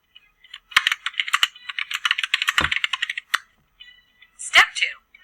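Rapid typing on a computer keyboard, a dense run of crisp clicks followed by a pause and a short final burst of keystrokes, close and clear.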